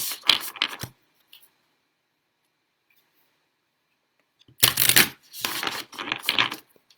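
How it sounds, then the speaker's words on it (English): A deck of oracle cards is shuffled up close in two short bursts of crisp riffling and flicking, separated by a few seconds of near silence. "You shuffle up the cards,"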